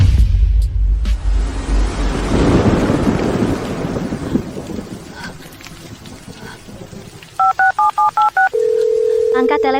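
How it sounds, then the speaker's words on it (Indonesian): Telephone tones near the end of an Indonesian drama, several short evenly spaced electronic beeps followed by a steady held tone, heard after a burst of rumbling noise and scattered clicks. "Kumohon angkat telepon"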